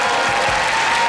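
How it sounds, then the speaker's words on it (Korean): A brief burst of dense audience clapping fills the hall at an anti-Japanese-resistance memorial concert held at a girls' high school, loud and continuous with no voices over it. "또 한번 박수 한번 쳐볼까요?"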